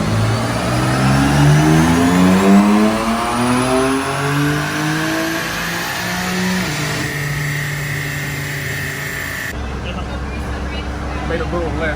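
On an AWD Dynojet dyno, a car engine revs hard through a long sweep. Its pitch climbs steadily while rollers whine rising beneath it, then it drops back to a loud idle rumble. The sound is close and continuous.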